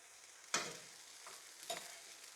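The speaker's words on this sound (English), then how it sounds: "you can either use a wooden spoon to mix it around, or you could use a fork if you wanted to and kind of turn it like that" Vegetables stirred in a frying pan with a wooden spoon or fork: a sharp scrape, then two softer scraping strokes, over a faint steady sizzle, close and quiet.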